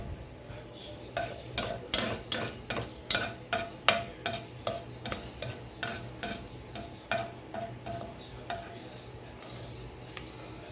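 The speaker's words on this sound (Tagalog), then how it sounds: "mag-isa na tayo ng onion, garlic at kamatis" Onion, garlic and tomato sautéing in a pan for a pork ribs stew, with a steady sizzle broken by about a dozen sharp rhythmic scrapes and clinks of stirring, close and moderately loud.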